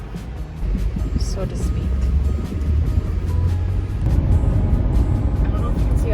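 A van driving on a road toward the city, its steady low engine and road rumble running throughout under a person talking.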